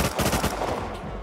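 Rapid gunfire in the survival game Rust, a headshot landing amid a dense burst of several quick shots in a row, loud and close, with no talk over it.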